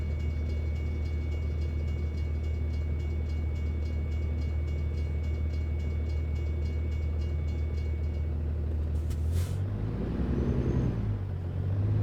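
Train rumbling past a level crossing in American Truck Simulator, Idaho, a steady loud low rolling drone with clattering wheels that cuts off abruptly near the end, giving way to a truck engine swelling in the foreground.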